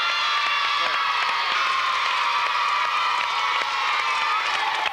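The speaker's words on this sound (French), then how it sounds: "Bon, on peut encore les applaudir." A studio audience on a 1992 French children's TV show applauds and cheers, with steady, loud clapping mixed with crowd shouts and whoops, continuous throughout.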